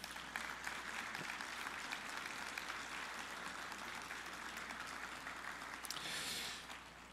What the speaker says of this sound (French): Je vous demande d'applaudir notre pianiste